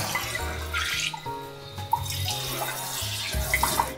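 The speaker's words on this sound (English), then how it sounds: "There's a water tap here, which we use to fill our kettle or pots" Water running from a kitchen tap into a sink, steady and close, with a low humming tone shifting in pitch and a few small clinks.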